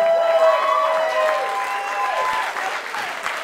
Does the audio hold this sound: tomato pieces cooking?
no